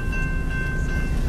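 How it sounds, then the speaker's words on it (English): A CSX train passes a road crossing at SR 44 in DeLand, Florida, giving a brief, loud, continuous rumble of rolling railcars with no speech. "When we want a train, we got a train."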